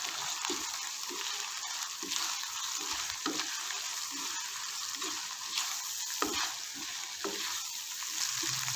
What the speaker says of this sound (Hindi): मसाले शामिल करने के बाद मज़ीद इसको अच्छी तरह से भूनेंगे।